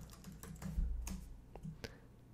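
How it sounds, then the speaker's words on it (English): Typing on a computer keyboard: a quick burst of soft key clicks, close up and alone, in an irregular rhythm. "Let's just type in something like ceiling fans."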